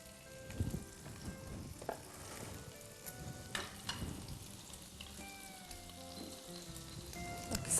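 Butter and a little oil sizzle with pancetta in a pan, a continuous crackling fry with scattered sharper pops, close and steady, with no one talking over it.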